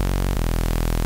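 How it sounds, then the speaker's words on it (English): A steady Serum 2 synthesizer tone buried under a loud, bright wash of white-noise hiss from its noise oscillator, sustained throughout with a brief glitch near the start. "If you click on the noise oscillator to enable it, I like to change it over to bright white"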